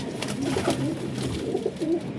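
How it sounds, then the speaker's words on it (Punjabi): Rooftop pigeons coo close up in repeated warbling, throaty phrases that rise and fall continuously across a short stretch. "ਟੈਡੀ ਕਬੂਤਰ ਚੈੱਕ ਕਰੋ ਜੀ"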